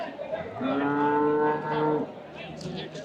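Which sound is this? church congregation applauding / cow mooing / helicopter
cow mooing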